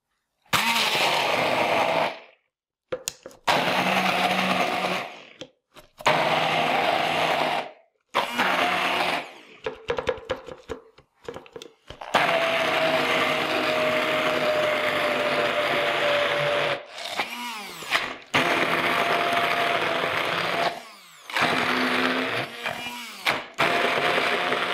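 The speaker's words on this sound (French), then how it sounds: "Et je vais mixer le tout." A blender whirs in repeated bursts, chopping parsley, garlic, salt and pepper with split peas and carrots for falafel, its grinding motor starting and stopping with short silent gaps, loud and near.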